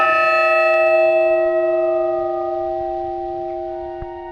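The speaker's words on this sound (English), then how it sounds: "The clapper swings against the bell as normal, but the sound gets muffled because of the leather pad between the bell and the clapper." A half-muffled tenor bell, the largest of six at a parish church, rung with a leather pad on one side of the clapper; a single loud ringing strike sustains and slowly decays, with a faint dull tap near the end.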